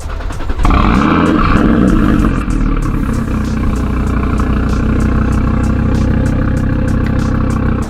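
An Audi RS3's 2.5-litre five-cylinder engine starts with a loud catch, then settles into a burbly, uneven idle with a steady low rumble and light mechanical clatter, close to the car.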